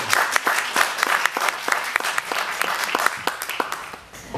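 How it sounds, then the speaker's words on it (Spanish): An audience at a film presentation and panel gives a round of applause, close and lively, with many individual claps rising and falling before it starts to taper off near the end. "Les pido un aplauso grande para Mercedes."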